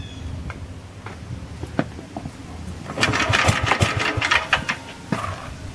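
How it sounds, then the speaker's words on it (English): A 1947 Gravely walk-behind tractor engine is pull-started. Quiet rattling comes first, then a few seconds of rapid, uneven chugging as it sputters and tries to catch, close by. "so Phil's gonna give it a start and see if it'll go"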